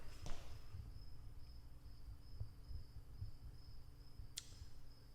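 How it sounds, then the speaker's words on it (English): Crickets chirp inside a barn, a faint continuous high trill running steadily under low background hum, with a couple of sharp clicks breaking through. "there are crickets in my barn."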